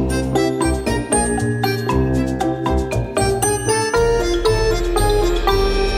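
School bell in a Roblox game ringing as a bright melodic chime, a run of clear bell-like tones sounding loud and close, with musical notes layered underneath and no speech.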